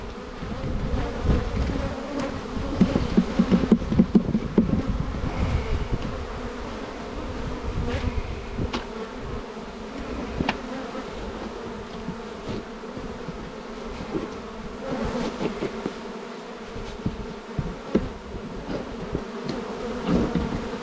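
Honey bees swarm and buzz densely in a close, continuous drone as a frame of honeycomb is shaken over the hive on a hot summer day, with intermittent bumps and handling noise beneath.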